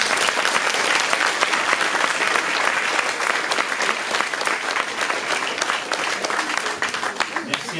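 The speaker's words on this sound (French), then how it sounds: "encore un petit coup d'applaudissement" A crowd applauds warmly at a diploma ceremony, dense clapping that holds steady for several seconds before thinning slightly at the end.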